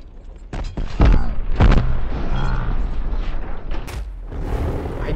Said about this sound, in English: Some type of explosion just went off and the car just disappeared on B